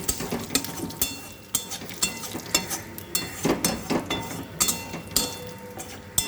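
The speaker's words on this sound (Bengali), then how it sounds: "এই তেলের মধ্যেই আমি একটু এলাচ, লবঙ্গ, দারচিনি, তেজপাতা আর একটু গোটা সাদা জিরে ফোড়ন দিয়ে দিচ্ছি" Whole cardamom, cloves, cinnamon, bay leaf and white cumin sizzle in hot oil left from frying fish, with a continuous crackle and repeated sharp pops and spatters, close up and with no one talking.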